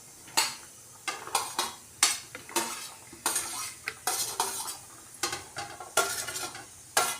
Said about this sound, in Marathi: पॅनमध्ये तेल थोडंसं तापलं की आपण भेंडी त्याच्यामध्ये थोडी फ्राय करून घेणार आहोत